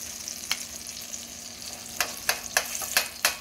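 Eggplant omelette, tortang talong, frying in a pan, a soft steady sizzle punctuated by several sharp clinks and scrapes of a spoon toward the end.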